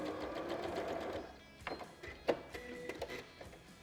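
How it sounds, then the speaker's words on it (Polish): A sewing machine stitching binding tape around a corner runs in a fast, even burst, then stops and gives a few short stitching runs and clicks. "Tak zwane szycie pod paseczkiem."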